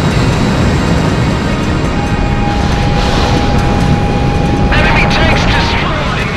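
Aircraft engine roar in a combat flight video game during low-level aerobatics, loud and continuous, with a sustained tone and bursts of gunfire-like crackle over it.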